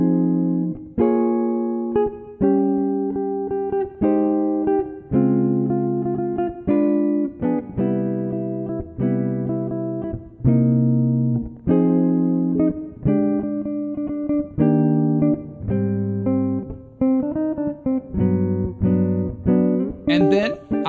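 Solo jazz guitar plays a chord-melody arrangement, with sustained chords struck one after another in a steady, unhurried phrase that carries on alone for about twenty seconds.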